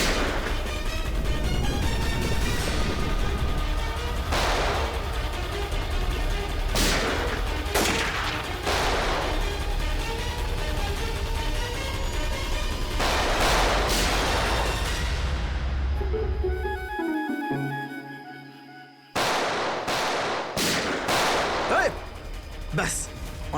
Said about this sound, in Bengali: অনেক চালিয়েছিস গুলি